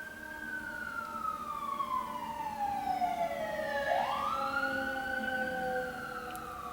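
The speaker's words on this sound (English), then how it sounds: "Always sirens in the ghetto." Emergency vehicle siren wailing outside on a city street, its rising and falling tone sweeping past at moderate distance, faint under steady background rumble, with no talking.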